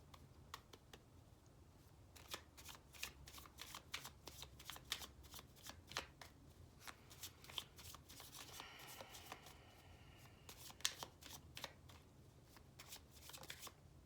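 Tarot cards are shuffled in repeated quick riffling bursts of crisp papery slaps, close and quiet, with short gaps between handfuls.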